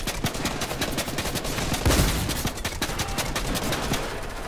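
Rapid automatic gunfire from a video game, with dense repeated bursts of shots rattling continuously and loudly and one heavier blast partway through.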